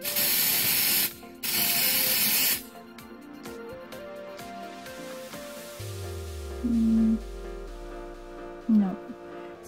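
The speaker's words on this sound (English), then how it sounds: "I'm gonna spray it closer" Onyx nail drying spray hisses from an aerosol can in two loud, steady bursts about a second each, followed by quieter clicks and handling sounds.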